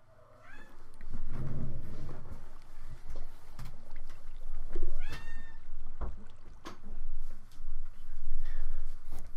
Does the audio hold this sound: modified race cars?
no